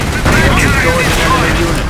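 Heavy, continuous gunfire from a Company of Heroes World War II battle, a loud, dense roar of shots with no pause, under a shouted voice.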